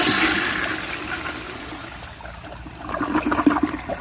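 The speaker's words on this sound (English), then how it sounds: "I guess I'll just do flushes until the tank runs out" A 1942 Standard Modernus toilet on a flushometer flushes with a loud, close rush of water, then tapers into a trickle before a second surge of gurgling water near the end.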